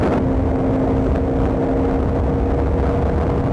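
A Bajaj Dominar 400 motorcycle accelerates hard under a loud, steady engine drone and wind roar, heard up close from the rider's position with no talk.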